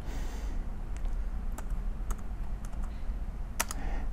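Scattered clicks of code being typed on a computer keyboard over a steady low room hum, with quick keystrokes spaced irregularly and a short cluster near the end.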